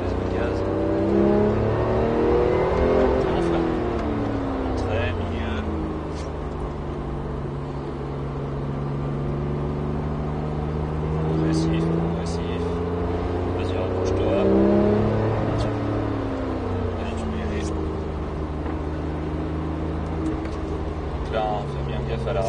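A Porsche 911 991.1 GT3 accelerates hard on a race circuit, its engine note climbing through gears in repeated rising sweeps, loud and continuous from inside the car, with occasional voices over it.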